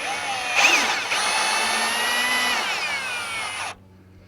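A power drill drives a self-tapping bolt into the steel frame of an RV bumper, a loud, steady whining drone close by that runs for about three seconds before cutting off abruptly.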